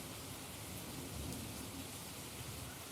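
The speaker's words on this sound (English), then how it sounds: "What a stormy storm it is." Rain and thunderstorm nature sounds played back indoors, a steady, dense wash of rainfall with a faint low rumble beneath, continuous and fairly loud with no talking.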